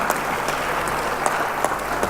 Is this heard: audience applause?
yes